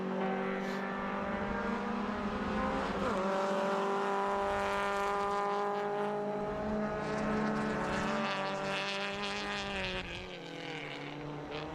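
Victorian Super Tin Tops race car at Winton Motor Raceway, its engine droning loud and steady as the car works through the corners, pitch rising and falling with each gear change and throttle shift.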